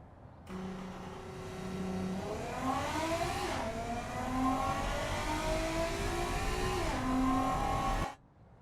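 Engine of a 2002 Edison Comet car in the game Automation, revving and climbing through several gear changes in one continuous run, rising and dropping in pitch before cutting off abruptly, with no talk.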